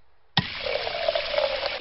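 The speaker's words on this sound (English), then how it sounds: "Daddy, can we have some water in our bucket, please?" Water gushes from a drinking fountain into a bucket in a cartoon, starting suddenly after a near-silent moment and then pouring in a loud, steady stream to the end.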